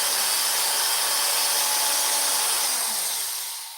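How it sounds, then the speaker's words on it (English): An old Craftsman power drill runs with a loud, steady, close whirring hiss, then begins spinning down near the end, with no talk. "Well, this is a nice drill. It's a Craftsman. Old Craftsman drill."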